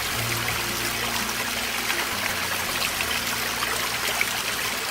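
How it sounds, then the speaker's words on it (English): Water trickles and splashes continuously over rocks in a garden pond water feature, a close, steady babble with a low hum underneath and no talking. "it's still running too much, I want a little bit more water running over here"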